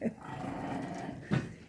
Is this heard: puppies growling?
yes